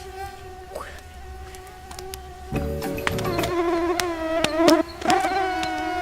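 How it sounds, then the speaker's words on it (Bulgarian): Mosquitoes in a forest whine and buzz close by, several high droning tones overlapping and rising and falling as they fly past the microphone. "имам чувство, че комарите стават повече"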